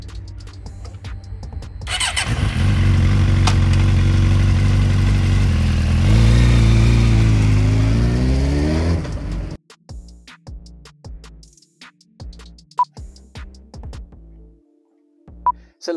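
A Suzuki GSX-R 750cc sport motorcycle starts up and runs close and loud with a steady rumbling idle, then a rising rev before cutting off, followed by scattered clicks and knocks.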